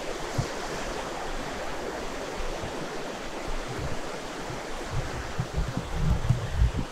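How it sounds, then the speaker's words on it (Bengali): Mountain waterfall water near Seonamsa Temple in Korea, a steady broadband rush of falling and flowing water heard alone and moderately close, with some rumbling wind buffeting toward the end. "পাহাড়ি ঝর্ণার পানি"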